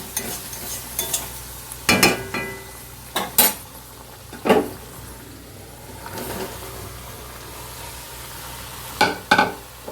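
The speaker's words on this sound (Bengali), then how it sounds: "এবার এর মধ্যে পেঁপেটাকে ঢেলে দেবো" Papaya being stirred into a spice mix in a cooking pan, with a low continuous sizzle under scattered sharp scrapes and knocks of a utensil against the pan.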